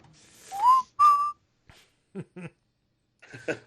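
Someone whistles a short tune nearby, a few clear rising notes followed by softer, broken fragments with pauses between them.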